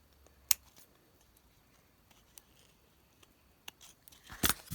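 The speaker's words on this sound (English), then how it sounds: "Now you can come back in with your scissors and clean up any places you need" Scissors trimming a stamped ceramic-style paper cutout, a few sharp isolated snips spread out in a quiet room, with a quick cluster of close cuts at the end.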